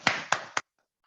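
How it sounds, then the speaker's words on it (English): Three sharp, evenly spaced claps at a Toastmasters club meeting during officer installation, close and distinct, each with a brief ringing tail, then abrupt near silence. "Please give huge round of applause for both of the DTMs"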